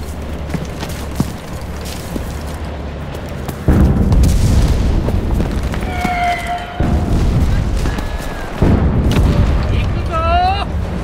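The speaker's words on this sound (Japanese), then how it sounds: "砲兵隊を呼んでくれ。 了解、砲撃確認。" Artillery barrage explosions in the video game Enlisted, heavy booms arriving in bursts with loud rumbling impacts, mixed with battle noise and brief siren-like whistling tones.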